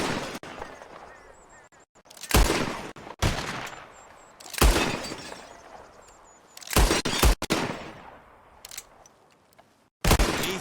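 Repeated gunshots and shattering glass bottles in a Red Dead Redemption 2 shooting contest, loud sharp cracks in irregular bursts, some close together, with ringing debris tails between shots.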